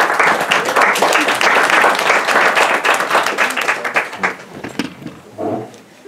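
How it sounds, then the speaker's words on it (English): An audience at an Armenian studies lecture breaks into loud, close applause, sharp individual claps dense at first, then thinning into scattered claps before a voice begins. "Asya, would you please rise and be acknowledged and applauded?"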